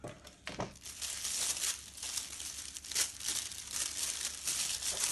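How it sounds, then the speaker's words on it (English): Silk pillowcase being unwrapped from its tightly packed box packaging, with continuous close crinkling and rustling of wrapping material and a few sharper tearing bursts throughout. "Okay, and you can just unwrap that."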